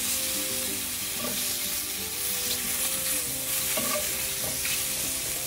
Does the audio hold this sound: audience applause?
no